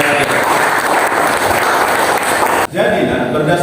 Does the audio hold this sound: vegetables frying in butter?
no